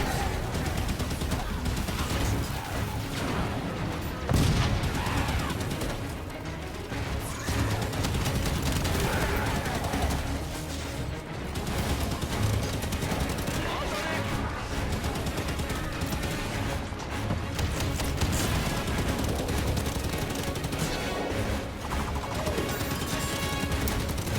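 Gunfire in the video game Halo 5: Guardians, with dense, rapid bursts of weapon fire and impacts running almost without pause over a busy, loud game soundscape.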